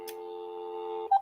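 Telephone line tones from a radio station's call-in phone, a steady electronic tone held for about a second before a short higher blip, clean and close, with no talking.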